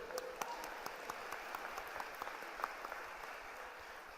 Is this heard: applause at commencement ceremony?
yes